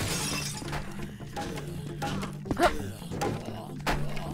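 Glass shattering inside a home-center building in the Zombie Panic! Source game, with a sharp break among thuds and clattering game noises, while players talk over it.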